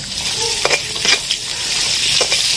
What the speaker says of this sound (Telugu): ఇంకొక 2 నిమిషాలు మనం దీన్ని ఇలాగే తిప్పుకుంటా వేయించుకోవాలా.